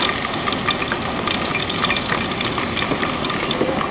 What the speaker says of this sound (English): I will add my onion to the oil.